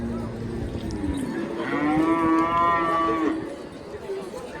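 A bull at the Deolgaon Raja cattle market in India lets out one long, deep moo close by, rising and holding for a couple of seconds over a quiet outdoor background.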